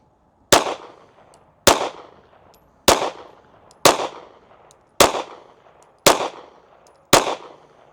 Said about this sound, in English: So let's shoot a group at that middle left.